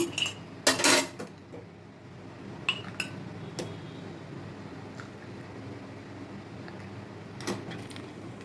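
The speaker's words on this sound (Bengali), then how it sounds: "দুধ জ্বালাতে হবে সমানে নাড়তে হবে যাতে নিচে না লেগে যায়" A metal spoon clinks against a pot while milk heats and is stirred for mango ice cream, with a few sharp scattered clinks, loudest near the start, over a quiet background hiss.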